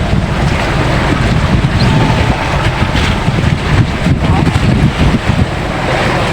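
Wind rushes steadily over open water around a small fishing boat hauling in nets for little tuna, with a dense, constant roar and no speech.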